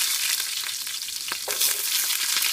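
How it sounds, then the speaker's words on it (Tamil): Mustard seeds, fennel, curry leaves and green chillies fry in hot oil for a vegetable kurma, giving a loud, steady crackling sizzle with scattered sharp pops and spatters close by. "கடுகு பொரிஞ்சிருச்சு இப்போது நாலு சோம்பு கருவேப்பிலை பச்சை மிளகாய்"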